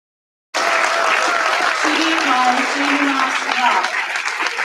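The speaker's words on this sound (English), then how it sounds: "please stand up and give round of applause for our guest" Children in an auditorium at a national science camp stand and clap for a guest speaker; after a brief silence a loud, sustained burst of applause begins, with a few voices and tones rising faintly beneath it.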